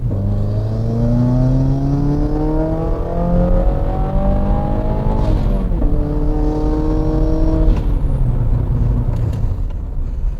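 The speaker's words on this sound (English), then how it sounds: "it makes the car sound so slow because it's at half throttle all the time" A car engine held at half throttle drones steadily with rising and falling harmonic pitch, shifting through gears twice with brief dips, loud and close throughout.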